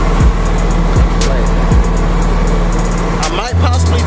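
A 1972 Dodge D100 pickup truck's engine idles steadily after carburetor adjustments, a loud, close, continuous low rumble with a few periodic pulses and a shift in tone near the end.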